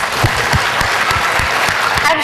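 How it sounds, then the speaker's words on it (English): A school-day show audience gives a sustained round of applause: dense, loud clapping filling the whole stretch, with some voices mixed in underneath. "huge round of applause"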